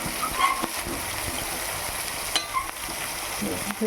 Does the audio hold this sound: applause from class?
no